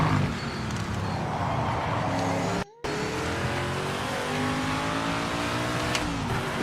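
A race car's engine in a racing video game revs and accelerates with rising, sweeping tones and a brief dropout partway, loud and close, with a faint tire squeal near the end.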